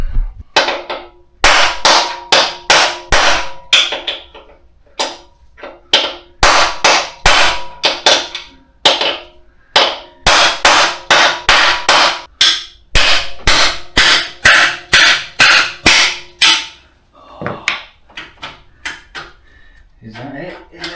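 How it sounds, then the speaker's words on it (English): A hammer striking a bolt on a Kawasaki ZX9R motorcycle engine, dozens of loud, sharp metallic blows in rapid bursts separated by short pauses, close up. "So now it's just a case of smacking the hell out of it."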